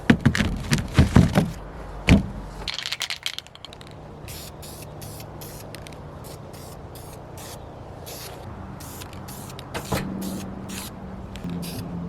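Spray paint hisses from a can in short bursts onto go-kart wheels, a few loud clattering knocks at the start, then a steady run of quick, evenly spaced spritzes close by with no talking.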